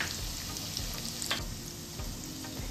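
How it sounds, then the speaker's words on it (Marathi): Ginger-garlic paste frying in hot oil in a pan, giving a steady, close crackling sizzle with faint scraping and stirring throughout, and no voices. "तेल गरम झाल्यानंतर त्यात आलं लसणाची पेस्ट आधी टाकायची आहे."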